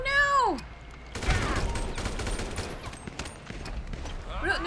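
Gunfire in Grand Theft Auto V crackles in a dense burst of rapid shots with a rising siren-like tone before it, loud and close.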